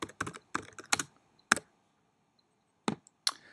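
Keys clatter on a computer keyboard as a composition name is typed, in quick bursts of crisp clicks with short gaps, then a couple of isolated taps after a pause.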